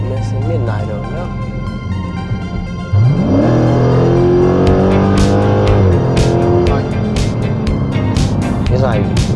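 A Dodge Challenger 392 T/A V8 with an aftermarket pedal box revs loudly, rising sharply in pitch and holding a high, harmonic-rich drone up close, while people talk over the engine.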